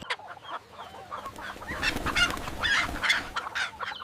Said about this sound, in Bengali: অনেক টাকা দিয়া এই মুরগিটা আনলাম